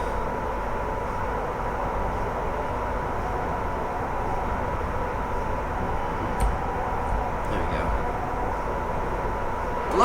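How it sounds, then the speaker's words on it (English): A Class 87 electric locomotive slows under train braking in Train Simulator 2016 on the West Coast Main Line, a steady low rumble and hum of running gear that continues evenly throughout. "I'm going to turn the train brake on just to slow down a little bit."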